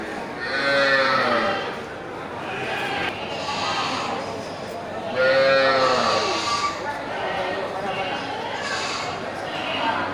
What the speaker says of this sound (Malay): ini di depan kita hadir satu simental besar ya, indukan simental besar dengan pedet super ya